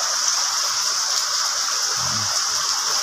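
Heavy typhoon rain pours down while floodwater overflows, a dense, steady hiss and rush of water close by, constant and loud throughout, with a brief low thump partway through.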